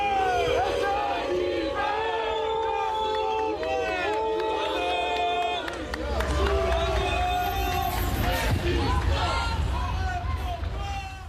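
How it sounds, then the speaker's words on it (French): Striking workers jeer and boo as buses pull out under police escort, a dense mass of raised voices and shouts filling the air steadily, swelling louder partway through. "sous les huées des grévistes"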